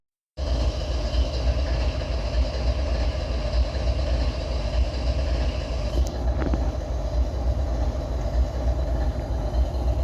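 A train rolls past continuously at close range, a loud steady rumble and rail noise holding throughout with a faint high squeal midway, no voices.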